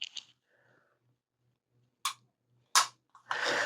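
A concealed-carry pistol fires a few sharp, crisp shots spaced about a second apart, loud and close, with a brief mechanical click between them and no talk.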